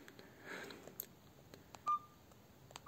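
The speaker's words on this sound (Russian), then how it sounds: "Телефон включается даже." Nokia 105 (RM-1134) mobile phone powering on, giving a few short, faint electronic beeps, with one clearer tone near the end, in an otherwise quiet room.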